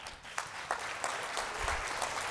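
An audience at the 2018 Women Business Leaders Forum claps in a steady, moderately quiet patter of scattered hands, with a few sharper bursts and no clear voices.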